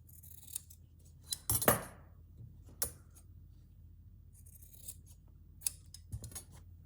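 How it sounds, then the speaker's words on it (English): Scissors trimming fabric for a Japanese rice bag, a few crisp snips and blade clicks spaced irregularly, close and fairly quiet against a faint background hum. "I could probably do with a little trim off of there."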